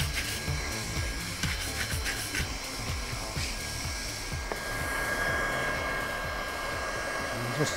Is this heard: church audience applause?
no